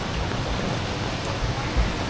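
Rain falling outdoors near Woodlands, Singapore, a steady even wash of noise that holds close and continuous for the whole stretch with no talk over it.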